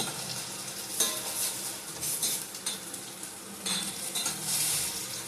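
Dried red chillies and tomatoes sizzle in a hot pan while a utensil stirs them, steady frying crackle broken by several louder scraping bursts, close and without speech.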